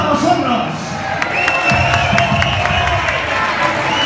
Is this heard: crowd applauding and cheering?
yes